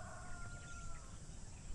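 A chicken crows outdoors, a faint, drawn-out call heard at a distance over steady rainy background noise, with no voices.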